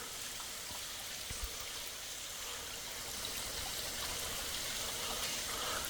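Small waterfall on the Dix River in Kentucky's Palisades during dry weather, a soft continuous rush and trickle of falling water heard from a short distance, steady and fairly faint.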